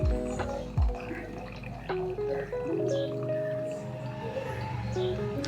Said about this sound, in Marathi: ह्या ग्लासमध्ये हे पाणी मी गाळून घेतलेलं आहे।